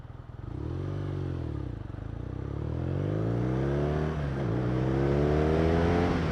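A 2016 BMW R nineT motorcycle being ridden, its engine note climbing and dropping through gear changes as it accelerates, a loud steady drone close by with no talk over it.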